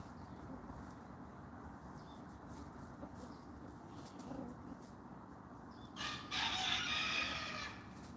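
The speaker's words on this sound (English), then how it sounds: "y'all can hear the chickens back there screaming and roosting" Chickens at roost squawk and cluck faintly in the background over steady outdoor hiss, and one louder burst of calls comes near the end.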